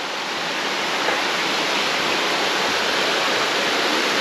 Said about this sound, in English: they've got several ways to channel the water to the old grist mill